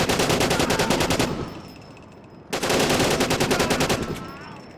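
Automatic weapon fire in Syphon Filter: The Omega Strain, two loud sustained bursts of rapid machine-gun shots separated by a brief lull with fading echoes, close and dominant.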